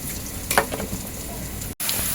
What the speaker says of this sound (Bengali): এদিকে পেঁয়াজ লাল লাল করে ভাজা হয়ে গেছে